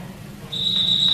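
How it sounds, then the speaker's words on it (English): A referee's whistle ends a high school wrestling match by technical fall, starting halfway through as one sustained shrill tone over a low steady gym hum. "And there's the whistle."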